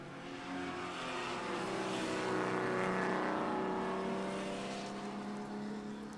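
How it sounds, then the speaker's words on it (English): Group 5 race cars passing on track at an O'Reilly Auto Parts Grand Prix, engines swelling loud as they go by and then fading, with no speech over them. "So Cody Smith, a clean pass as he laps him"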